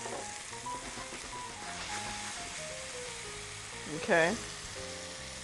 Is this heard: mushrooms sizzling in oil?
yes